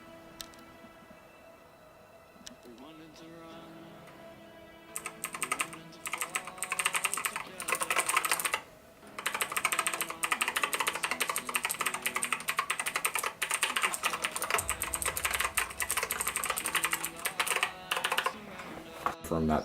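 A mechanical gaming keyboard, the G-R Plus, being typed on: rapid, close, continuous key clatter starts a few seconds in, breaks briefly, then carries on steadily to the end, following a quieter lead-in.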